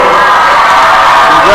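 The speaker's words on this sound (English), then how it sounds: "Congratulations as the crowd gives him a big ovation." High school basketball crowd giving a big ovation after a player reaches 1,000 career points, a loud sustained roar of cheering and shouts filling the gym.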